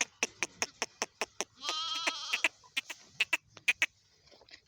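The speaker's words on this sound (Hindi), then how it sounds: "बकरी का बच्चा" A young goat kid gives one short wavering bleat amid a steady series of sharp rhythmic claps, fairly quiet overall.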